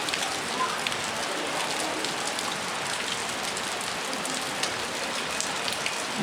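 Steady runoff spills from a cliff edge along a wet trail, making a dense, unbroken hiss and patter like a downpour. It stays loud and near throughout, with nothing else standing out.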